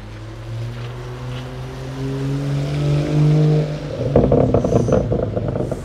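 Audi RS4, RS6 and BMW M2 cars pulling away outside a dealership, a rising engine drone with clear harmonic tones building, then a louder rough burst of exhaust and rumble near the end.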